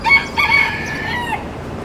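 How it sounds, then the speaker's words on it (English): A rooster crows nearby in Brickell, Miami, a high drawn-out call that fades, with soft outdoor background noise and no talking. "Got some chickens over here. Chickens in Brickell."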